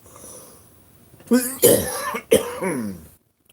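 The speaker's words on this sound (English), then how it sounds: "I am really sorry about this cough, people" Several harsh, loud coughs come in quick succession from a person with a bad cough, close to the microphone during a live winter homestead chat, separated by short breaths.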